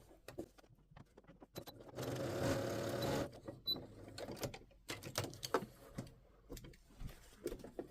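A sewing machine stitches a facing on a garment in a short burst of steady whirring, framed by scattered clicks and handling noises of fabric and machine, fairly quiet and with no voices.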